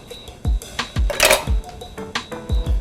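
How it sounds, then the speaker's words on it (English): A knife cutting around the pit of a mango, a run of close dull thuds and knocks against a cutting board with brief scraping between them, about eight hits in under three seconds. "I'm just going to run my knife around the pit until I get it so we can just cut this right on out"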